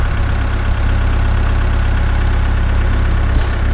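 A tractor engine running while hooked up before baling hay, a steady loud low rumble at idle that stays constant throughout, close by, with no one speaking.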